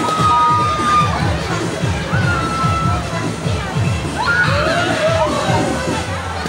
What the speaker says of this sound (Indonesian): Teriakan-teriakan bahagia, gembira